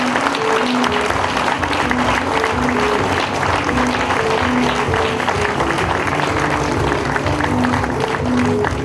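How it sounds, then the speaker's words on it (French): An audience claps loudly for athletes, a coach and an official at a Moissac sports awards ceremony, with sustained dense applause and a low rhythmic musical tone running beneath, crowd noise mixed in. "On peut les applaudir très très fort"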